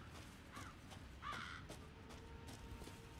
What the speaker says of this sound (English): Oh, the crows, I remember the crows.